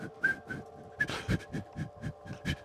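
A person whistles a rhythmic, breathy pattern of short repeated notes, mimicking wind rustling through leaves, close and fairly quiet.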